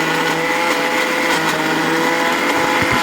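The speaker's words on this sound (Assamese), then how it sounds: "এনেকৈ প্ৰথমতে আদা নহৰুখিনি এবাৰ মিক্সাৰ গ্ৰাইণ্ডাৰত ঘূৰাই লৈছোঁ" A kitchen mixer grinder whirs steadily as it grinds fresh ginger and garlic into paste. The harsh, even motor roar is loud and close and runs without a break for the whole stretch.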